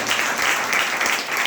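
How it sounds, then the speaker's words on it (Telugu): A church congregation breaks into dense, steady applause, many hands clapping together at close range for a short burst with no talk over it. "అలాగే చప్పట్లు పడతారా?"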